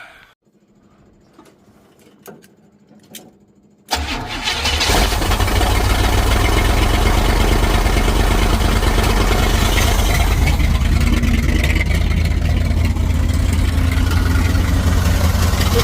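A 1955 Buick Super with a big-block swap cranks and catches abruptly, then settles into a loud, steady, rumbling idle close by, with faint clicks and handling noises before the start.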